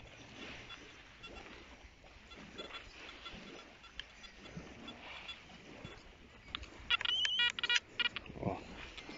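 Metal detector sweeping over a beach gives off a run of short, bright electronic beeps in the final seconds, over steady wind and surf noise with faint voices in the background.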